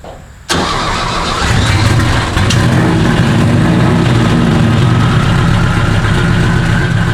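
An air-cooled 1956 VW Beetle engine cranks briefly in a garage and catches after half a second, then settles into a loud, steady, rattly idle close by.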